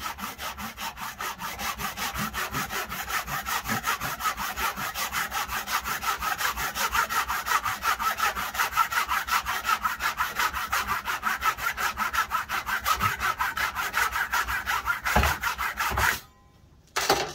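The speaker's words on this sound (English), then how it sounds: "So let's crack on and cut this slot." A hand saw cuts a fret slot into a wooden fretboard through a template for a 25.5 inch scale, with fast, steady rasping strokes close up, continuous for about sixteen seconds before stopping abruptly.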